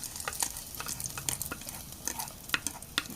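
Onions, chilies and curry leaves fry in oil for a dried fish curry, a faint steady sizzle with light scattered clicks and scrapes of stirring; no one speaks.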